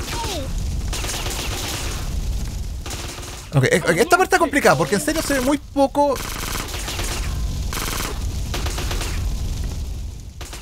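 Gunfire in the video game GTA San Andreas erupts in a dense burst of rapid shots midway, between stretches of busy game background noise, with someone talking briefly at the start.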